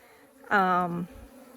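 Honey bees from a colony being removed from under a shed floor in Arizona give a loud, steady buzz that swells in close to the microphone for about half a second, then cuts off, leaving a quiet background.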